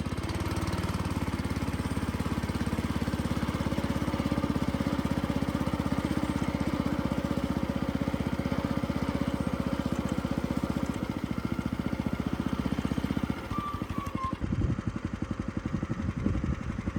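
Bocom trike mower cutting grass with a wide deck, its engine droning steadily and loud at close range, then the tone shifts and roughens near the end as the load changes.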